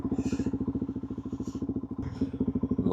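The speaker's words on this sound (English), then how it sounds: "That's the sound of the DRZ400 in all its glory." A Suzuki DRZ400 dual-sport motorcycle engine thumps steadily while riding, a fast rhythmic single-cylinder pulse with wind rush, close and fairly loud, no talking.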